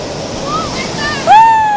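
Sea surf washing onto Puri beach in India, a steady broadband wash of waves with wind noise, overlaid near the end by a loud voice calling out close to the microphone.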